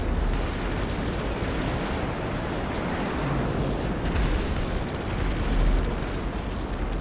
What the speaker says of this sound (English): Firing missiles!